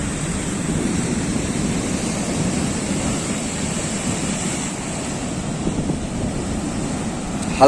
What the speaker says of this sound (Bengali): সেই জল কিরম পুরো তেড়ে তেড়ে আসছে একদম সি বিচের দিকে